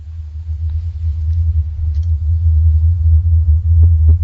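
A continuous deep rumbling drone, recorded as the Taos hum, swells slightly as it goes on, with a few faint ticks over it and no speech.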